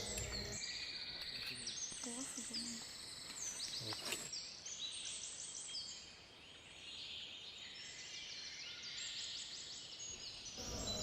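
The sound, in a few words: many birds calling in forest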